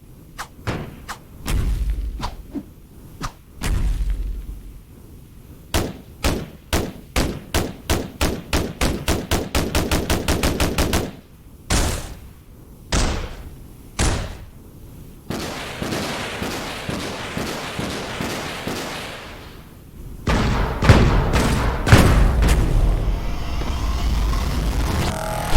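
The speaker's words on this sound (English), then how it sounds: "We've added new sounds for all our different weapons, like our bow weapons and whatnot." Weapon effects from the video game Islands of War, including a bow, fire in rapid sequences: single punchy shots, a fast burst of repeated bangs, thuds and a longer blast-like rumble near the end, loud and with no talking.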